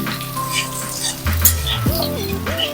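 Green chili paste dropped into hot cumin-tempered oil, sizzling close and loud with spoon-against-pan clinks as it is mixed, plus some tonal whistling in the background.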